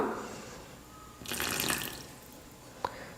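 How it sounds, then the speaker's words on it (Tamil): Water poured from a tap or spoon into wheat-flour cake batter made without maida, egg or sugar, a brief splashing pour in the middle followed by a single small drip or clink, with no talking. "அதனால் ஒரு 2-3 ஸ்பூன் அளவுக்கு நான் தண்ணி சேர்த்துக்க போகிறேன்."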